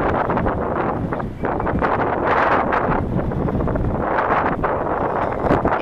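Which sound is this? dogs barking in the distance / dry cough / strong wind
strong wind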